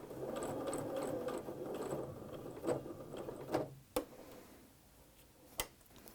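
A sewing machine runs a steady back stitch on a fabric placemat for about three and a half seconds, close and moderately loud, then stops, leaving a few sharp mechanical clicks and ticks.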